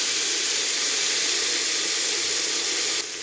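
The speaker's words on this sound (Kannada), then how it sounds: "ಸ್ವಲ್ಪ ಚೆನ್ನಾಗಿ ಫ್ರೈ ಆಗಲಿ." Tomatoes and green chillies sizzle in oil in a pan while cooking pudina bath, a steady close hiss of frying that runs unbroken, with no voices.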